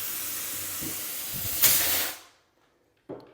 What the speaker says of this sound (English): I just use this blower nozzle just until I get both sides to pop out.